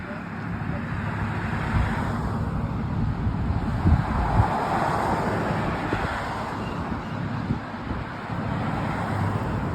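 Cars pass on a two-lane suburban road at midday, giving a steady broadband roadway rumble with wind buffeting against the microphone throughout, heard from a bicycle.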